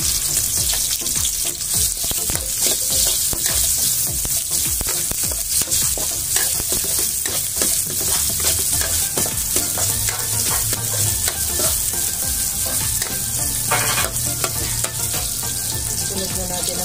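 Garlic and onion sauté in a pan for ginataang papaya with sardines, a steady loud sizzle running throughout with frequent scraping stirs and a brief tap-water splash near the end.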